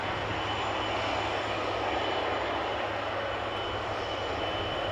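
A Boeing 777-300 airliner at Amsterdam Schiphol Airport gives off a loud, steady engine roar with a low hum, constant and unbroken with no voices.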